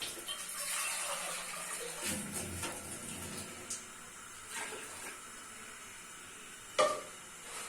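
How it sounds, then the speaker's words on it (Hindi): Water poured from a tap into a pot of boiling rice being cooked for a Pakistani dish, a soft continuous trickle with occasional splashes and a brief clank near the end. "पानी थोड़ा सा और डाल देते हैं।"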